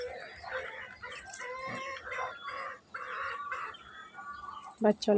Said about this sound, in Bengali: এখানে মুরগিগুলো